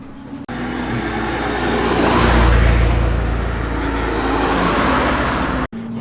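Classic rally cars drive on the track at Oulton Park, engine noise building from a steady drone to a loud close pass near the middle, then easing off, with no talk.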